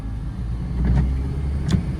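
A car slowly pulling away on half clutch with light throttle during highway driving practice, a low steady engine rumble close inside the cabin rising slightly over two seconds, no talking.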